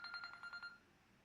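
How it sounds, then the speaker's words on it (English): A morning alarm on a phone rings in short repeated electronic bursts, about six quick pulses in under a second, fairly near and with no talk over it. "That's my morning alarm."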